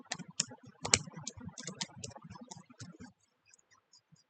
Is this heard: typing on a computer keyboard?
yes